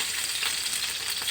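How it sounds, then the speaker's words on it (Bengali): Whole cumin seeds sizzle steadily in hot oil, a dense, close crackling hiss that holds at an even loudness with no pauses or voices. "তেল গরম হয়ে গিয়েছে, এবারে কটা গোটা জিরা দিয়ে দিলাম।"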